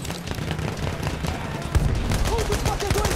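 Machine gun fire from Battlefield 1 multiplayer on PS4, rapid bursts of shots mixed with battle noise and a heavier hit partway through, with voices heard under the gunfire.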